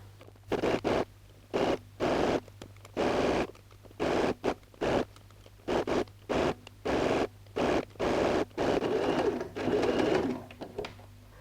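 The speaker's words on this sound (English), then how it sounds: "sew a zigzag stitch" A sewing machine runs a zigzag stitch on stretch T-shirt fabric in about a dozen short bursts of rapid whirring, each broken by a brief pause, close and clear with no talk.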